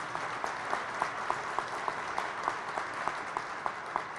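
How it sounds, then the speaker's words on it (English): An audience applauds Cuyahoga County employees at the Harvest for Hunger 2019 kickoff event, a steady, sustained round of clapping with distinct individual claps standing out throughout, no voices over it. "How about a round of applause for the Cuyahoga County employees?"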